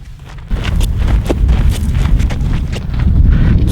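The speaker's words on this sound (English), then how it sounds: "So the goats just cut in front of us for like a third time, and they keep getting further ahead of us on the trail." Goats walking along a dusty hiking trail on Hurricane Ridge, hooves clip-clopping steadily over a few seconds, close by, with wind noise in the background.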